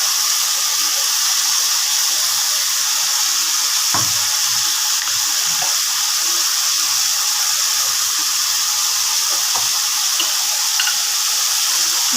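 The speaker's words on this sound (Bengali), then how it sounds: "প্রথমে আলুটা ভেজে নেব।" Cubed potatoes frying in a kadai produce a loud, even, broadband sizzle that holds steady throughout, with a few faint clicks and stirring taps beneath it.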